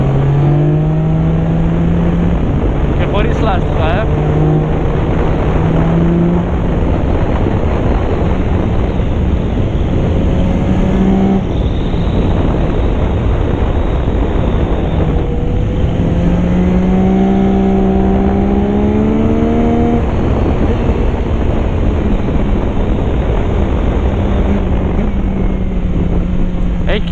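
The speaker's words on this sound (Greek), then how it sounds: "Για να δούμε λίγο πως τρίβει το Tracer." A Yamaha Tracer motorcycle engine rides under constant wind rush, its drone climbing and falling through revs, with someone talking over it.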